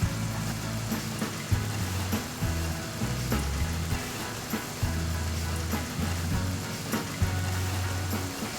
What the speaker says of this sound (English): I'll continue to let that simmer over medium-high heat